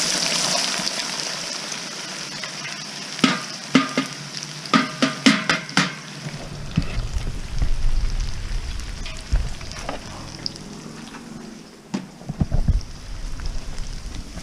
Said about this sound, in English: You only want to cook the onions so that they become translucent.